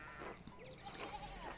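Sheep bleat in a medieval village setting of the game Pentiment, a soft wavering cry over a low ambient background.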